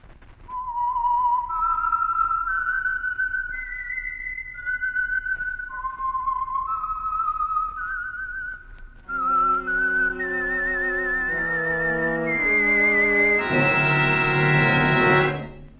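A melodic whistled signature tune identifying the Signal Oil radio program The Whistler, a clear solo whistle rising through a phrase and then joined by a fuller orchestral swell toward the end, loud and steady.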